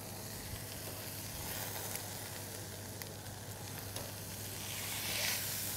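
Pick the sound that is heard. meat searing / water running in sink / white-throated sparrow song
meat searing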